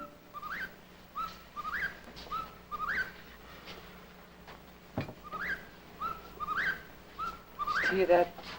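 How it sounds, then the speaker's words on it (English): A whippoorwill's whistled call repeats in a steady rhythm, several rising notes in a row, moderately close, with a soft thump midway. "Hear that whippoorwill?"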